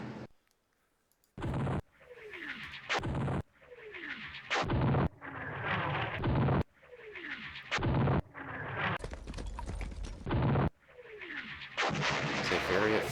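An artillery barrage in a war strategy video game: a series of sharp, loud booming shots at irregular intervals, each with a falling whistle and rumbling tail, separated by short silences.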